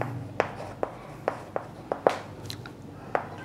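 Handwriting a definition during a physics lesson on lenses and light: close, distinct pen taps and short strokes recur at an irregular but steady pace, with no talk over them.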